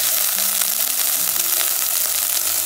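Corn kernels, almonds and chayote sizzle and fry steadily in a hot pan, a dense continuous crackle with no voices.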